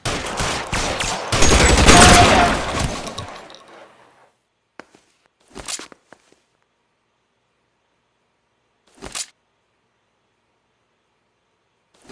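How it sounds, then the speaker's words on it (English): A loud burst of rapid gunfire in LA Noire rattles for a few seconds, then fades into silence broken by two short, isolated shots. "Shots fired."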